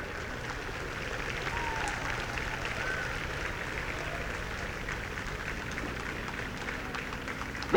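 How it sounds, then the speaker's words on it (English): Audience at an annual sports meet in Dimapur keeps clapping in a steady, sustained wash of applause, fairly distant and even in volume for several seconds. "Let's carry on clapping"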